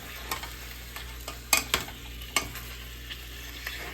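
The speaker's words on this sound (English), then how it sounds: "Let's give this a mix real fast." Beef stew with chipotle peppers, tomato sauce, olives and raisins being stirred in a pot, giving soft scraping and a few sharper clanks of the spoon against the sides over a steady low sizzle, with no talking.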